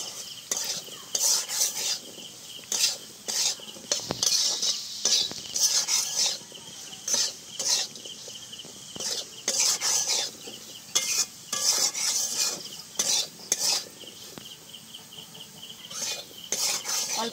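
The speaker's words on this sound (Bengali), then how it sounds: "এবার সব কিছুকে আবার খুব ভালো করে মিশিয়ে নেব।" Spices with turmeric powder and salt stirred in a pan for a samosa filling, a long run of brisk, rhythmic scraping and clinking of a spoon against the pan over a light sizzle, with no speech.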